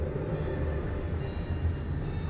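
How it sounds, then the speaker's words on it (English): Train from the video game Alice Madness Returns, a steady rumbling roll of rail cars with a low, dense churn and faint rattle throughout, close and continuous with no voices. "My Lizzie, what is this train's destination?"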